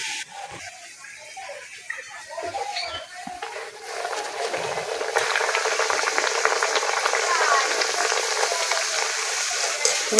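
Luchi, rolled dough rounds seasoned with carom seeds, frying in hot oil, a steady close sizzle that swells and grows louder as oil is splashed over the puffing bread.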